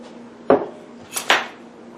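A metal spoon clanks twice against a pot while stirring in Rudolph's Barbecue jarred coleslaw mix, two sharp close knocks about a second apart over a faint background hum, with no talking.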